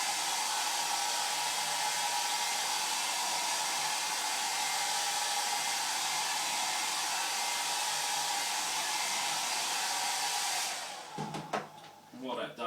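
A hair-dryer-style heat blower on a low warm setting heats vinyl wrap on car trim, giving a steady airy whir that runs evenly for about eleven seconds before cutting off into brief handling noises.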